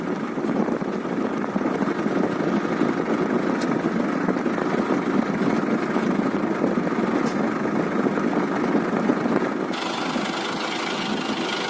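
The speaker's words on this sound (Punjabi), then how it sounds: "ਟਰੈਕਟਰ ਆਪਣਾ ਪਹਿਲੇ ਲੋਵੇ ਚੱਲਦਾ ਪਿਆ ਹੌਲੀ ਹੌਲੀ" A tractor engine runs slowly and steadily at idle, a low continuous chugging rumble with no voices.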